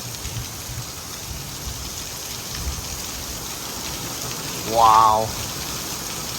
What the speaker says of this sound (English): It is just pouring out right now.